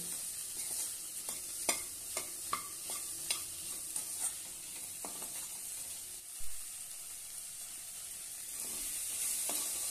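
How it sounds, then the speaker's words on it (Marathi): Okra (bhindi) stir-fried in a pan for a methi-bhindi dish, with a steady close sizzle throughout and repeated sharp scrapes and clacks of a spatula stirring, one duller knock midway. "आणि छानपैकी परतून घेऊया। दोन मिनिटं असंच आपण शिजवून घेऊया भेंडी"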